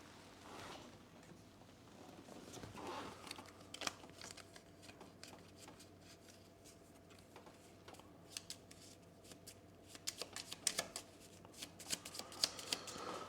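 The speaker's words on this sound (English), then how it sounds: "Immediately shuffle the Season of Curses and the Storm Worsens card." A deck of game cards for the Aeon Trespass Odyssey board game is shuffled at close range, with repeated soft riffling and shuffling bursts that come faster and crisper toward the end.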